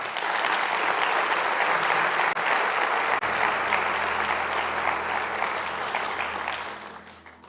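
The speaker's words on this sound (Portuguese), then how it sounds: "Vamos aplaudir Jesus?" A church congregation applauds at an evening service, a dense, sustained wash of clapping that fills the room and holds steady for several seconds before thinning slightly at the end.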